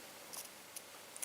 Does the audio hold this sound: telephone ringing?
no